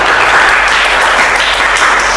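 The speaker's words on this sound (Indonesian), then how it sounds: "kita tepuk tangan untuk hari ini ya" A crowd applauds loudly and steadily, a dense wash of clapping hands that carries on evenly without pause.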